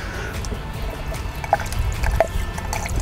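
Worcestershire sauce squirts from a bottle into a meatloaf mix, giving soft, faint wet splats and drips over low background rumble, with no talking.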